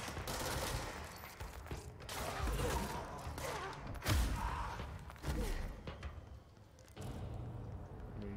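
Heavy thumping blasts and bursts of gunfire fill a frantic firefight in the video game Control as huge grenades are hurled back at an enemy, dense and continuous with several sharp booming impacts.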